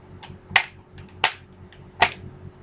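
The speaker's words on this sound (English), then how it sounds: "It's an airsoft gun." Airsoft pistol painted to hide its orange tip, fired three times at roughly even intervals, each shot a sharp, close, snappy crack with nothing else heard.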